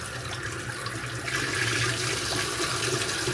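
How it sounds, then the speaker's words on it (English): A cold kitchen tap running full force, water gushing over a DJI Osmo Action 6 camera held in the sink, a steady, even splashing rush, close and unbroken. "Let's get that cold tap as fast as it can go"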